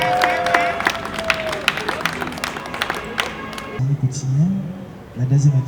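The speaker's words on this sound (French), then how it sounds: "Applaudissez très fort pour le populaire" Wedding guests at a ceremony clap and cheer in a busy, crowded burst for several seconds; the clapping then stops abruptly and someone speaks over quiet room noise.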